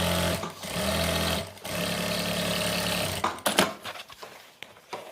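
A sewing machine stitching a Patiala salwar, a steady close motor whir running for about three seconds with a brief pause, then stopping into scattered clicks and handling noises.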